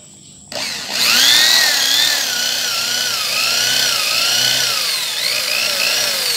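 An electric drill bores a 2 mm hole into the metal pipe of a homemade used-oil burner. The bit bites in after a brief pause and then holds a loud, steady whine that wavers slightly in pitch, with no voices.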